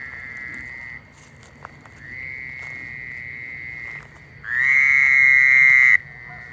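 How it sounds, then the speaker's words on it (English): Small frogs at a lake at night give long, buzzy trilling croaks in three bursts. The last burst is the loudest and closest, set against quiet background hiss with no talking. "Little frogs are everywhere."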